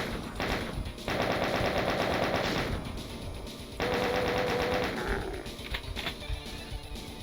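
Rapid, continuous bursts of automatic gunfire from the game Doom II, loud and close, coming in two long volleys with brief pauses and scattered game effects between.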